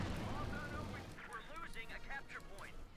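Machine gun and artillery fire rattle and boom through a Company of Heroes 2 battle between Wehrmacht and US forces. Dense gunfire fills the opening, then continues beneath steady commentary from a caster's voice.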